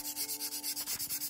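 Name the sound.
sanding a stainless steel tumbler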